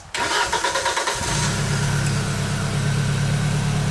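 The small gasoline engine on a Genie lift, with fuel problems in the carburetor, cranks in rapid loud pulses for about a second. It then catches and settles into a steady, close, droning idle.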